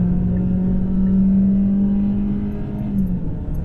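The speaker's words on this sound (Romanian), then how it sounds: "se aude frumos mașina" A Kia Optima engine runs with a steady, close, even rumble and a low hum, with no revving and no voices.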